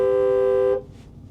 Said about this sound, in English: it honks the horn like so